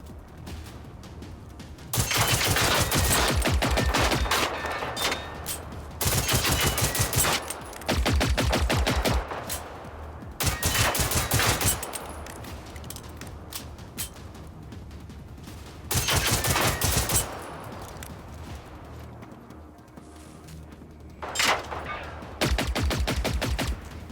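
Video-game gunfire comes in repeated loud bursts of rapid automatic shots, separated by quieter gaps of ambient game noise, with the bursts recurring several times.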